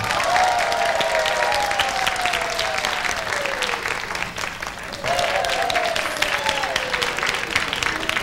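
A fan club audience applauds slalom contest prize winners with steady, continuous clapping, overlaid by a sliding tonal sound and some crowd cheering.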